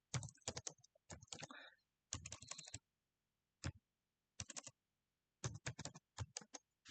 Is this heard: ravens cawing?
no